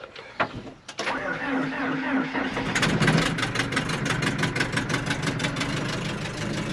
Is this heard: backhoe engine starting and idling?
yes